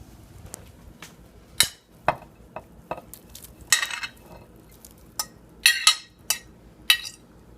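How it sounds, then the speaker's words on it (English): A spoon stirs chicken tortilla soup in a crockpot, giving a string of scattered scrapes and sharp clinks against the pot at an uneven pace, close and fairly quiet, with no talking. "Going to give that a nice little stir so everything gets all nice and juicy"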